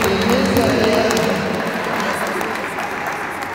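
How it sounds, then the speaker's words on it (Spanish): Applause at a diploma ceremony for computer course graduates, a steady wash of clapping from a seated crowd that gradually softens, with some talk mixed in. "Fuertes aplausos a señora Clemencia de ella."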